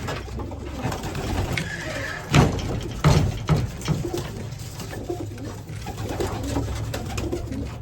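Racing pigeons coo softly in a few low, throaty bursts against a quiet background hum, with faint patter and rustling around them.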